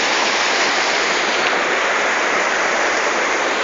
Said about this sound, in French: c'est une grande rivière, on l'appelle la rivière Louila